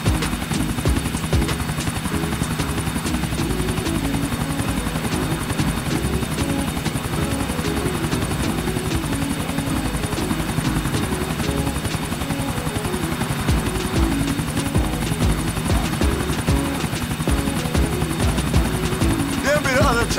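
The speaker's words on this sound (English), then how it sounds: "There be the other chopper." A helicopter flies in the video game GTA 4, its steady rotor thrum and engine drone loud and unbroken throughout, with voices talking over it.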